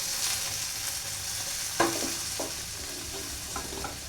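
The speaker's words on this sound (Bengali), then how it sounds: "টেবিল চামচ তেল দিয়ে আমি ভিন্ডিটাকে সাঁতলে নিয়েছি" Okra sautéing in a little hot oil for a Bengali-style bhindi chicken keema, with a soft steady sizzle and occasional stirring clinks and scrapes of a utensil in the pan.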